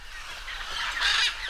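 A noisy flock of rainforest birds, probably parrots, calls over a riverbank, a dense chorus of harsh squawks and chatter that builds and peaks toward the end of the short stretch.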